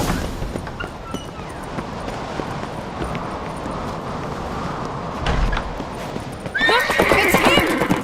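Rhythmic clip-clop of a horse galloping with a loud whinny near the end, mixed with The Witcher 3: Wild Hunt game ambience and faint voices.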